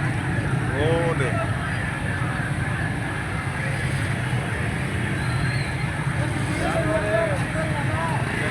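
A tractor engine drones steadily and loudly throughout, a rough continuous rumble mixed with wind and a murmur of voices in the background.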